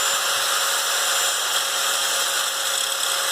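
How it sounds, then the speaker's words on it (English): Steady high-pitched whine of an angle grinder grinding bumps off a steel base, a constant close drone with no pauses and no voices. "So I'm going to use this grinder and grind that off so it sits nice and"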